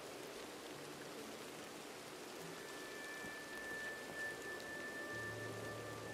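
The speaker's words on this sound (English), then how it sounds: "Do be raining though." Soft, distant rain hiss in the video game Red Dead Online, a faint continuous patter with a few low tonal hums in the background.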